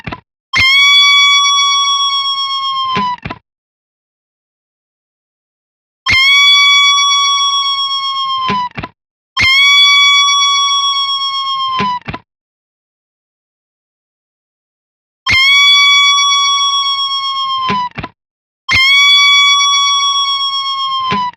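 Electric guitar played through a NAM amp simulator with aliasing noise rings out in five loud, sustained distorted notes, each a few seconds long and separated by silent gaps, with no talking.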